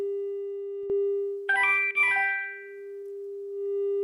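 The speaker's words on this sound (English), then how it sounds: "I have a 400 Hertz test tone." A steady pure 400 Hz electronic test tone hums continuously, briefly dipping and warping with a short click near the start before settling back to its constant pitch.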